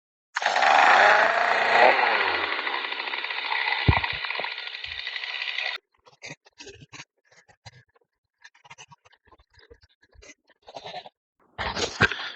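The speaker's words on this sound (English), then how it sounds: "these little MS-250s make a great, homeowner limbing saw for, around the house" An MS-250 chainsaw, a homeowner limbing saw, runs loud and close at high revs for several seconds, then drops to idle and sputters in short uneven bursts before revving again.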